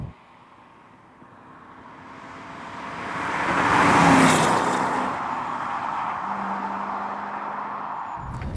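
A rare British car from the last volume carmaker, one of only 82 sold, drives past on the road, rising from a low rumble to a loud peak around the middle and fading into steady road noise.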